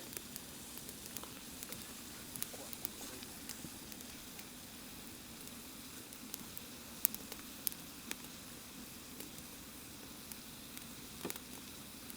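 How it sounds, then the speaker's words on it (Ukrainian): Quiet, steady sizzling of mushrooms frying in a pan, with faint pops and crackles scattered throughout. "тепер ми смажимо грибочки"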